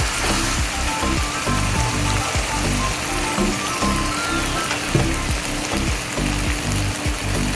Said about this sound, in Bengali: আমি এতে এবারে সামান্য অল্প একটু জল দেবো